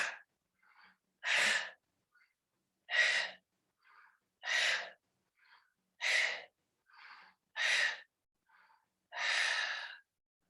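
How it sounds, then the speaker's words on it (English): Rapid, forceful yogic breath-of-fire exhalations: a series of short, sharp breath bursts, roughly seven strong puffs at a steady rhythm with faint inhales between, close and alone. "Let's use our breath of fire. Let's do 10."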